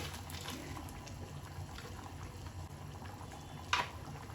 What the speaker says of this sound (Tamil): வடைக்கறிக்கு குழம்பு நல்லா கொதிச்சிட்ருக்கு.